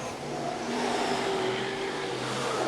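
Gary Pagel's newly purchased modified production race car circles the Gympie Speedway track in Queensland title racing, a continuous engine drone with clear tonal whine, held at a fairly even, moderately distant level throughout.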